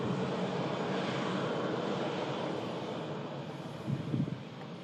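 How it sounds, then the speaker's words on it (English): A Cathay Pacific Airbus A380 taxiing out at Manchester gives a steady, fairly faint broadband jet roar from some distance, with a slight swell near the end. "Cathay Pacific A380, the next heavy departure is on the taxi out"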